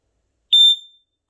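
A single shrill electronic beep from a Black & Decker Flamebuster Slimline SMK100 smoke alarm being tested, loud and close, lasting about half a second before cutting off into silence.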